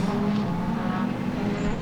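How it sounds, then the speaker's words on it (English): Two drift cars entering a corner together at Manfeild Raceway, engines bouncing off the rev limiter in a loud, sustained buzzing wail, close and continuous. "You can hear the limiter screaming of both those engines."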